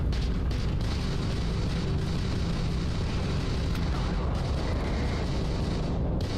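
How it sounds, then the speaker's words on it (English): Ballistic cannon fire during a starship battle in the video game Starfield, a dense, continuous roar of booming blasts that stays loud and unbroken throughout. "Press to fire a ballistic cannon?"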